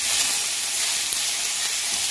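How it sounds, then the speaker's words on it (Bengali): Onion and red, yellow and green bell peppers fry in a pan with a little oil, giving a loud, steady sizzle and hiss that stays close and constant throughout. "অল্প ফ্রাই করে এর মধ্যে আমি বেশি অয়েল ইউজ করিনি"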